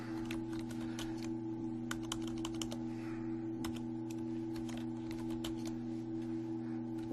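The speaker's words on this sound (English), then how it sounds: "I'm typing and it's not doing anything" Someone types on a computer keyboard in a quiet room. Light, irregular clicks and taps run steadily over a constant low electrical hum, with no speech.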